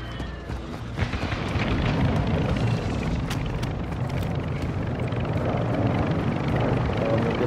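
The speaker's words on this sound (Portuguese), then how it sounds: "o helicóptero chegando aí" A helicopter arrives in a video game, its steady rotor thump and engine roar filling the scene continuously and loudly, with small crackling impacts scattered over it.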